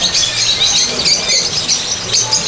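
Small birds chirp and tweet in a dense, steady chatter while being hand-fed, a close, bright cluster of overlapping high calls with no talk.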